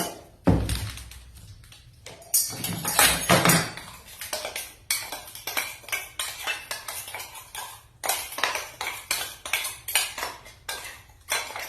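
Powdered sugar being mixed into flour in a bowl for a chocolate fruit cake, a steady run of quick tapping and scraping knocks of utensil on bowl, close and fairly loud, repeating in fast uneven bursts.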